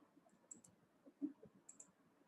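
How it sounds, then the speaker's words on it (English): Faint, sparse clicking of keys being tapped nearby in a quiet room. "I'm typing my email ID in the chat box."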